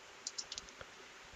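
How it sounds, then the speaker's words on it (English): Light, quiet clicks from a computer keyboard as a short web address is typed, a handful of separate keystrokes in a quick uneven burst, close-up and alone. "Type here www.google.com"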